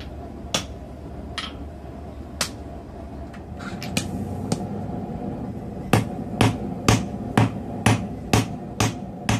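Hammer blows strike a steel anvil sitting on a concrete block base, loud sharp metallic clangs, sparse at first and then falling into a steady rhythm of about one strike per half second, over a constant low hum.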